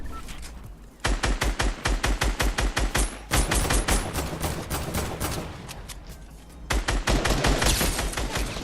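Rapid automatic gunfire in Fortnite Battle Royale, loud bursts of sharp cracking shots in quick succession with brief pauses between volleys.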